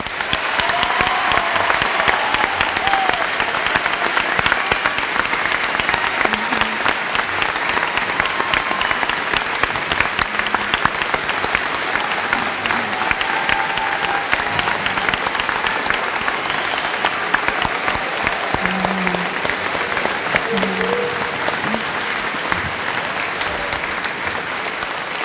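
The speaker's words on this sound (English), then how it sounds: "giving them another huge" A large graduation audience for a high school class of 2021 gives sustained, dense applause, a loud even roar of many hands clapping at once without a break.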